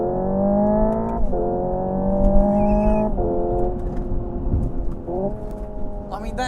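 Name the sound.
simulated engine noise from Hyundai Ioniq 5 N electric car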